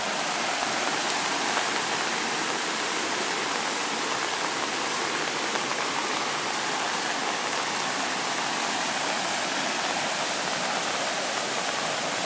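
A flooded, swollen river rushes past as a loud, dense, unbroken roar of water that stays close and steady for about twelve seconds, with no talking.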